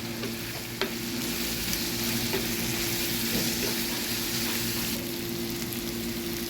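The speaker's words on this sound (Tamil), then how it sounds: "இஞ்சி பூண்டு சேர்த்துருக்காங்க நல்லா கிண்டி விட்டுருக்காங்க" Ginger and garlic frying in a pan for a spicy quail egg fry, a constant close sizzle with a few faint spatula knocks and scrapes.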